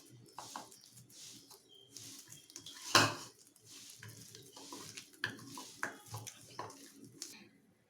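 Raw fish pieces being hand-mixed with masala in a bowl, producing soft wet squelching and irregular clinks of dish and utensil, with one sharp knock midway, close and fairly quiet.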